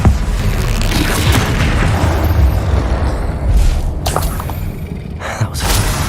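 Explosive Confringo spell blasts from Hogwarts Legacy on hard mode, loud booming bursts with a shattering crackle, repeated over a steady rumbling game soundscape.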